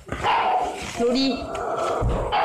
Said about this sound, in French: On n'a pas besoin de t'entendre aboyer là.